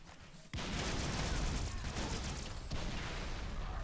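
A Needler firing in Halo 3 kicks in abruptly and keeps going as a steady, fast stream of shots, close and loud, holding to the end with no talk.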